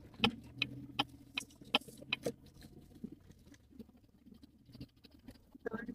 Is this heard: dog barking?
no